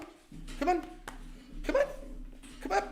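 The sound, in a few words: dog barking and whimpering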